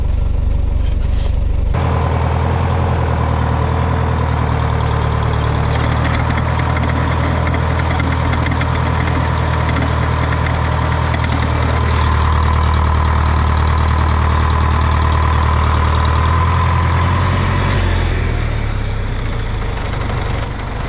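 A farm vehicle's engine idles loud and close with a steady low rumble, then its pitch and load shift as it pulls away on a muddy vegetable farm field near a river.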